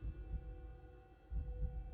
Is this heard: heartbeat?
yes